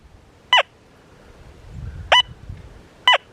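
A Deus 2 or Manticore metal detector, set to multi-frequency, sweeps over a gold ring and gives three short, sharp target tones spaced over a few seconds, with a faint low rumble between them.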